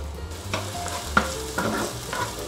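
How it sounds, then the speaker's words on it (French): Onions frying in olive oil in a sauté pan give a close, crackling sizzle, broken by several stirring scrapes and knocks of a utensil, with no voices. "on va faire revenir nos oignons dans un premier temps"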